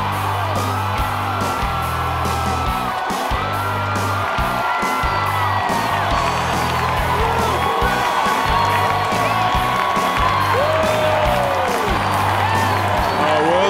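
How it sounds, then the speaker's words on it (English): A stadium crowd at the congressional baseball game cheers, whoops and applauds continuously, a loud dense roar with shouts rising over steady clapping throughout. "The crowd went crazy for a while"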